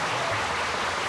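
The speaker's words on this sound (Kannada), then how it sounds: "ಬರಲಿ, ಅವ್ರಿಗೆ ಜೋರಾದ ಚಪ್ಪಾಳೆ." A studio audience on a Kannada TV show gives a short, dense burst of clapping to welcome a guest, the MLA Ramakrishna. The applause is steady and fills the space for about a second.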